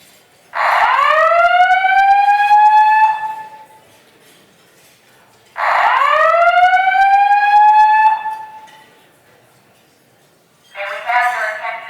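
A hotel fire alarm sounds in loud, repeated rising whoop tones, two long sweeps of a few seconds each separated by pauses, followed by the start of a third, heard close and clear without talk.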